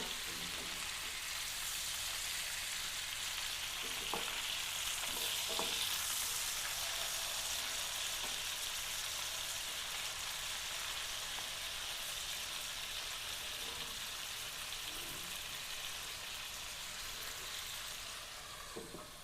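Tandoori chicken fries in a pan with a soft, continuous sizzle and crackle. A few light scrapes come as the pieces are turned, and the sound is fairly quiet and close.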